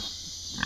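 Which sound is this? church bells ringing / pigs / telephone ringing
pigs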